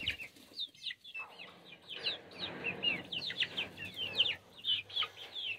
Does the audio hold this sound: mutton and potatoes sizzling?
no